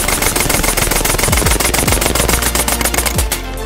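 An Air Arms SK-19 full-auto airgun fires on a range in one loud, rapid, continuous burst of closely spaced shots at close range, with no voices.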